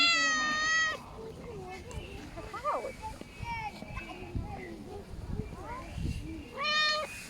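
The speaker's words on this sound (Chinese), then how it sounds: "这里有好多小猫，这里。" Stray kittens meowing in repeated high, thin cries, the clearest at the start and end, with people talking and cooing softly in between.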